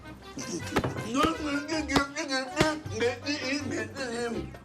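Someone is struck on the back in a Turkish comedy scene: three sharp, dull thumps spaced over a few seconds, close and clear beneath continuous excited talking.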